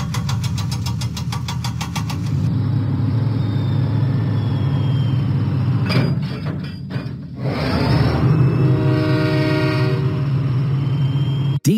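A cartoon diesel train engine rolls steadily through the countryside in a Thomas and Friends game, a continuous low engine rumble with clattering track noise and a brief horn-like tone partway through, no talking.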